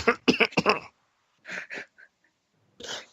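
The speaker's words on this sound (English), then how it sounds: "I'm going to have to get that cough checked out. It's been plaguing me for weeks." A man coughs in several harsh, close bursts, a quick cluster first and then further coughs after short pauses, with no talk alongside.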